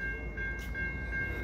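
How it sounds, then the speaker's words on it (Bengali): A local train pulling into Prospect Heights station on the line toward Chicago: a steady low rail rumble with a sustained high tonal whine, continuous and fairly loud throughout, no voices. "ওই যে ট্রেন আসলেই এখানে এরকম শব্দ হয়।"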